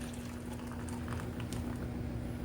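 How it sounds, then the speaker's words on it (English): Vanilla-bean custard mixture for crème brûlée is poured through a filter, giving a continuous soft liquid trickle and bubbling close by, with a faint steady hum underneath and no talk. "what we're gonna do now is pour this and filter it"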